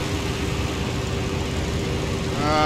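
A P-47 Thunderbolt taildragger's radial piston engine drones steadily and close up as it taxis in X-Plane 11. The throbbing is even throughout and swells slightly louder at the end.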